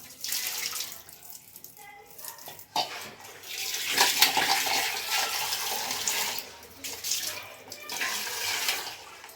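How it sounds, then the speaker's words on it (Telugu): A kitchen tap runs into a sink in a home kitchen. The splashing pour swells and eases, and a brief low murmur of voices sits beneath it. "వాటర్ అప్పిద్దాం."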